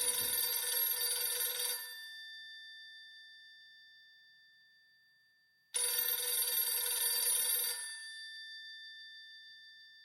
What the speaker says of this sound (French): le téléphone sonne dans l'appartement.